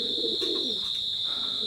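Teddy pigeons coo softly and steadily at close range, low murmuring calls over a constant high electronic whine, with no talking.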